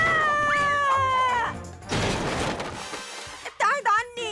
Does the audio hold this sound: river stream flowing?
no